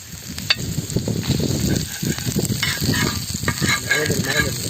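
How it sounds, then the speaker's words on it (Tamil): Close sizzling and crackling of chopped onions frying in butter in a pan, with scraping stirs and spatters throughout. "பொட்டி பொட்டியாக நறுக்கி இருக்கிற வெங்காயத்தை சேர்த்துக்க போகிறோம்"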